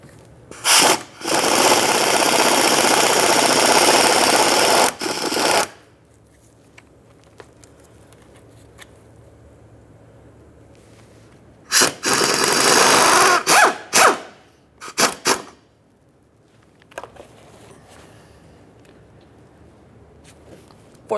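Power tool backing out 10mm headed mounting bolts from the plastic underbody shield of a 2013-2020 Ford Fusion 2.0L, two loud sustained whirring bursts of several seconds each, followed by short separate zips and quiet pauses.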